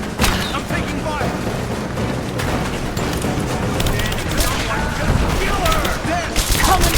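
Dense gunfire and explosions rattle continuously through a Rise of the Tomb Raider firefight, a loud, chaotic barrage with scattered sharp reports, while combat voices shout over it.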